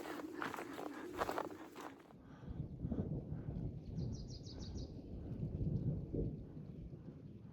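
Low rumbling thunder rolls in the distance over the snowy San Juan Mountains, a deep drawn-out grumble over faint outdoor background noise.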